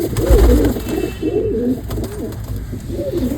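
Several desi pigeons in a loft coo in repeated rolling phrases, close and clear, with brief pauses between bursts and a low steady hum underneath.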